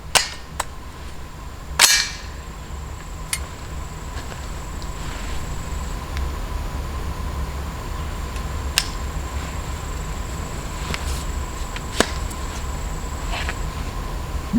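Shots from an AR-9 9mm pistol caliber carbine pop at irregular, widely spaced intervals over a steady background hum, each one a short, fairly sharp report.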